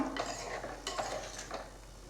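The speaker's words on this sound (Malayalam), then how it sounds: "ഇതാ പതിയെ കഷ്ണങ്ങളൊന്നും ഉടയാണ്ട് ജസ്റ്റ് ഒന്ന് ഇളക്കി കൊടുക്കാം" A ladle moves gently through a small sardine curry in a pan, making soft, quiet scraping strokes over a faint bubbling simmer.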